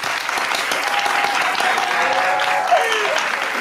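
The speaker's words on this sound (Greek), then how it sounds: "Ένα μεγάλο χειροκρότημα για την Τζον!" Studio audience on a Greek TV talk show breaks into steady, dense applause that holds at an even level throughout, with a faint whistle or cheer rising briefly near the end.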